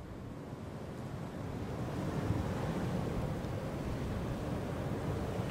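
Fast, forceful floodwater rushing down a river channel carrying debris, a dense continuous roar that swells slightly and then holds steady, with no voices.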